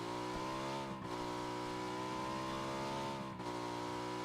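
A motorbike engine in the PUBG video game revs in a sustained, buzzing whine that holds at high pitch, with two brief dips as the throttle eases and picks up again.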